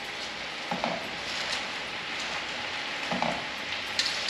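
Cabbage frying in a pan for Southern fried cabbage, a steady close sizzle with a few light scrapes and clinks of stirring.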